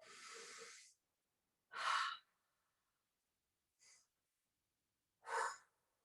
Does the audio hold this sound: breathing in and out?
yes